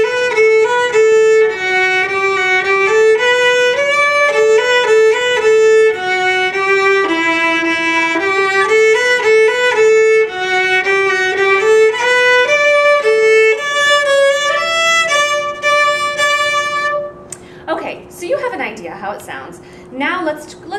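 A solo violin plays measures 13 to 21 of a piece as a clear, close melodic line with sustained bowed notes. Near the end the playing stops and a voice starts speaking.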